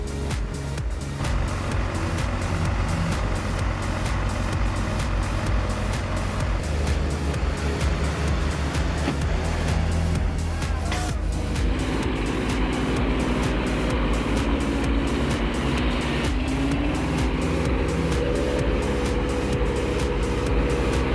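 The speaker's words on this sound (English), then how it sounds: "the truck struggles uphill under grueling conditions" Heavy timber-laden trucks grind uphill on a slick, muddy mountain road after rain, engines straining in a continuous loud low drone that shifts pitch midway, with wheels churning and no voices.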